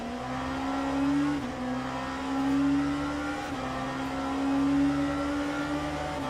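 An LMP2 race car engine at Daytona in a racing video game holds a steady high drone at speed, with slight pitch dips and rises as gears change, alone and fairly loud.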